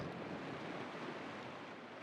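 Ocean waves in Taputa Pass at Rangiroa as the outgoing tide eases, a steady, fairly faint wash of surf and wind noise with no distinct breaking crashes.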